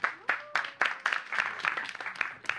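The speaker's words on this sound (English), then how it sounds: "Give him a round of applause." A small group of students in a maths classroom claps in a quick, uneven burst of separate hand claps lasting a couple of seconds, fairly close and moderately loud.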